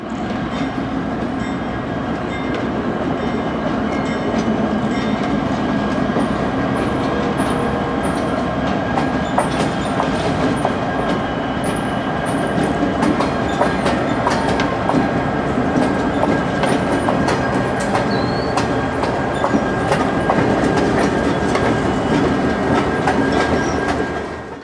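A steady, continuous rumble of locomotives being shoved along rail track in a rail yard, with faint clanks and occasional metallic squeals throughout and no talking.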